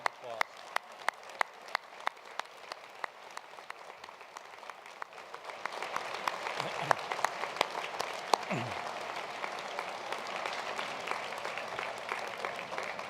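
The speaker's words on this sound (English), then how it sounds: "give them a round of applause." Students applauding their parents at a college matriculation ceremony: a few isolated claps at first, then a large crowd breaks into sustained, even applause that fills the hall.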